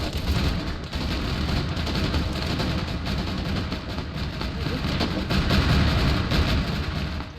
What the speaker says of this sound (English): I can't hear you over the explosions.